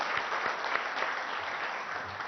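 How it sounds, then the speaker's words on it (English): Applause from an audience at a business meeting in a hotel hall, a dense, even wash of clapping that holds steady throughout. "I think he deserves a big round of applause."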